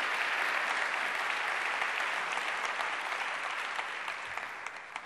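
An audience at a live talk applauds in a steady, dense wash of clapping that holds for several seconds and then begins to thin out toward the end.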